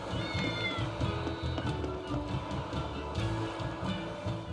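Several cats in the video game Tales of Berseria meow in quick overlapping calls over game music, close and fairly soft.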